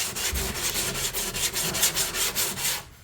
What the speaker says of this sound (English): I'm going to go ahead and use the 80 grit sandpaper